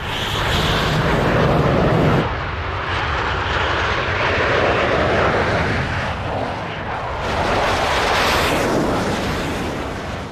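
Soviet MiG-15 fighter jet engines roar loudly and continuously, a broad rushing drone that swells and shifts, with no talk.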